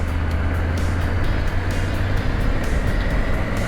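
A Triumph Tiger 900 GT Pro motorcycle engine runs with a steady, smooth, unbroken drone, loud and close, with no voices.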